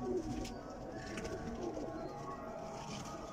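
Blue pigeons coo softly in a loft, low throaty calls repeating over a faint background murmur.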